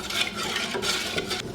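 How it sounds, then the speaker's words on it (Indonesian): A thickening cimol dough mixture is stirred in a pan over a medium flame: a continuous, close scraping and swishing with small bursts of louder strokes, and no voices. "Di sini kita aduk-aduk sampai kental"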